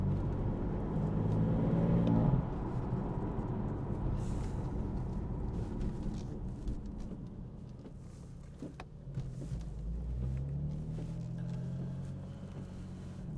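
A 2017 BMW M4 with a 3.0-litre 426 bhp engine accelerates, its engine note rising and then dropping through gear changes, heard from inside the car at moderate loudness.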